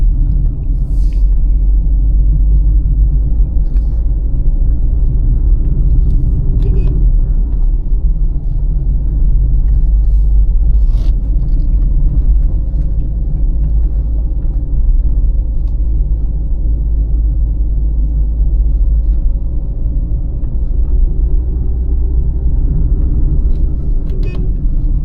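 A Hyundai i20 Elite climbs a narrow forest road near Shimla, its engine a steady, loud low rumble that holds throughout with little change, heard from inside the car with no talk.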